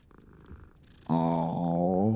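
A close, soft purr from a cat in the video game Hogwarts Legacy starts after a brief quiet moment and then holds a steady, rumbling rhythm to the end.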